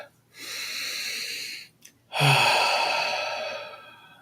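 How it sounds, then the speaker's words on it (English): Two slow, deep breaths are drawn in and let out close to the microphone, each a long, airy rush with a short quiet pause between them, in a calm meditation setting. "big another deep breath in and out, in and out."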